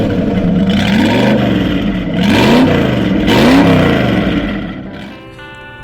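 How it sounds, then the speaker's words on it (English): Ford Pop hot rod with a one-off stainless steel valved exhaust, its engine revving hard in repeated rising and falling blips, loud and close, then settling toward idle at the end. "The stainless steel exhaust, which is a complete one-off fabrication with trick valves in there so you can open it and close it to make the exhaust loud or quiet."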